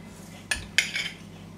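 Onion pakora batter of gram flour is mixed in a bowl: two quick metallic clinks of a spoon against the dish ring out close, followed by a softer scrape, over quiet background.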